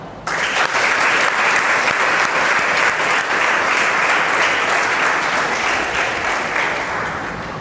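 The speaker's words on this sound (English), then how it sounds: "please clap" A classroom of school students applauds together in steady, dense clapping that starts abruptly and holds loud for about seven seconds, tapering slightly at the end, with no talking over it.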